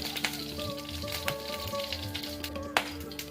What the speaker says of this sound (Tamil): இப்போ நான் இந்த டைமில் கடுகு போட்டுக்கலாம். கடுகு பொரிஞ்சதும் சீரகம் போட்டுக்கலாம்